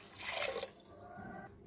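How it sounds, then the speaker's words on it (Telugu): A glass of water pours into a cooking pot for basmati rice in a short, close splash lasting under a second, followed by faint residual trickling. "వాటర్ పోసుకుంటున్నాం. 1 glass first glass"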